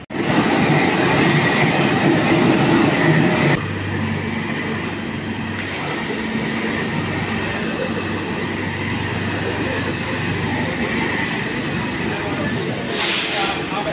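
A Kolkata metro train runs on the Airport to Noapara line, a loud close rumble of wheels and cabin hum that steps down after a few seconds into a steady rolling drone, with a brief squeal near the end.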